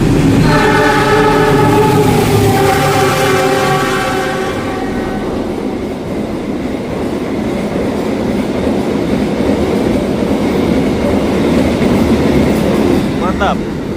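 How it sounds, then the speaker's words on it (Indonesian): A loud train horn blares, then Indonesian passenger trains on the Solo–Gambir route rumble past close by with continuous rolling and rattling wheel noise. "Oke, itu kereta api Argolawu. Dan ini kereta api Manahan. Dan ini kereta api Batavia."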